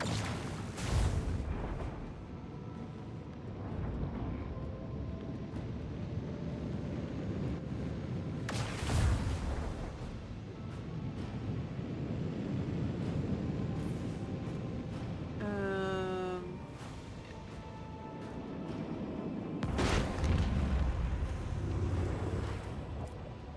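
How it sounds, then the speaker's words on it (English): Starship macro cannon and torpedo fire in the Warhammer 40k Rogue Trader video game: three heavy, widely spaced booms over a constant rumbling battle ambience, with a brief rising electronic sweep between them. "Macro cannon! Open fire!"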